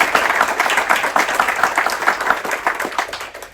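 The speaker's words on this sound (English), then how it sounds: "So big applause for the entire team before I start with presentation" Crew members at a celebration applaud the entire team, a loud, dense burst of clapping from a close group that swells early and slowly tapers toward the end.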